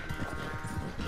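Horse hooves clip-clop in a quick, even rhythm in the video game Red Dead Redemption 2, a brief, fairly faint burst of riding with no clear whinny.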